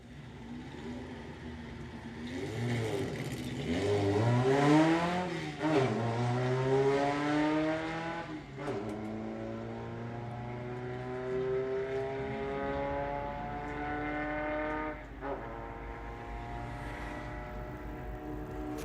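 Drag racing cars, an Audi A3 among them, launch and accelerate hard through rising engine notes and gear shifts, loud then receding into the distance, with faint commentary underneath.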